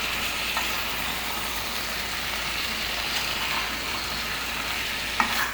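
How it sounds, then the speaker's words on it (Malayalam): Chicken chukka being stirred in a hot pan: a continuous close sizzle with soft scraping and a sharp clink near the end. "ഇനി നമുക്കിതൊന്ന് ഇളക്കി കൊടുക്കാം"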